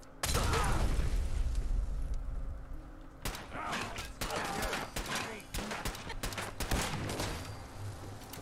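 Gunfire rattles in Fallout 4 during a raider fight, with a loud opening volley followed by bursts of rapid shots, while a person talks over the shooting.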